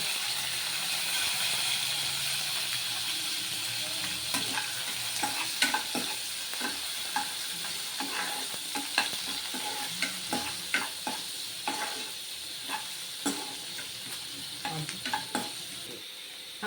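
Onions fry in hot oil with shahjeera and a bay leaf as a steady, soft sizzle. Frequent stirring scrapes and clicks grow busier toward the end.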